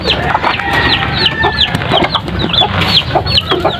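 A flock of chickens being fed, including Chinese chickens, cluck busily and continuously close by, with overlapping short clucks and squawks and no talking.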